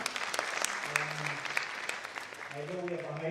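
Audience applause for guests at an international relations and diplomacy career forum, a steady patter of clapping filling the room, with voices and tonal sounds emerging toward the end.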